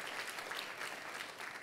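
A church congregation in Indonesia claps together in a brief burst of applause, a dense patter of many hands heard at moderate distance.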